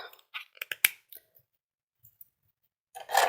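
A few small plastic clicks and taps close by, with one sharp snap as a pen cap is pushed on, then a soft rustle.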